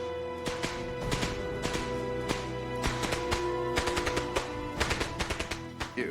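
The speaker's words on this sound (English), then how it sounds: "we heard this chatter of a machine gun behind us" Machine gun fire from the First World War rattles in repeated short bursts and single cracks, sharp, loud and echoing, with no talking over it.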